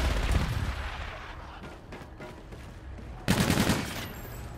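Dense gunfire and bombardment rage in the Call of Duty: Infinite Warfare video game, a continuous roar of rapid shots and blasts that swells louder with a fresh barrage near the end.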